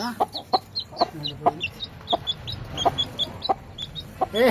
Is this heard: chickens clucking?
yes